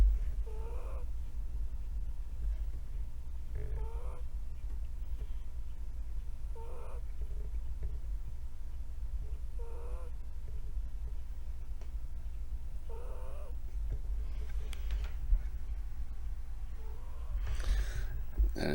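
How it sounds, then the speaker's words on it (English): A dog asleep on the floor snores softly, giving rhythmic raspy breaths about every three seconds over a low steady hum, faint and close. "that is the sound of a snoring dog"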